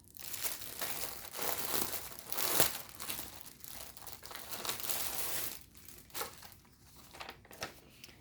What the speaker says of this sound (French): Alors, on va déballer ça.